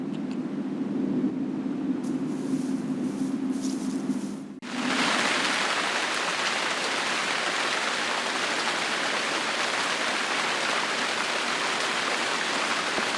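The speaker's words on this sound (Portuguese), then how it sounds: "A chuva também causa seus efeitos no subsolo." Steady rain falling outdoors in the Spanish wilderness, a dense even hiss that starts quieter then swells abruptly to a loud continuous downpour, with no voices.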